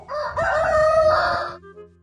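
A rooster lets out a single close, loud cock-a-doodle-doo lasting under two seconds, then fades into quiet.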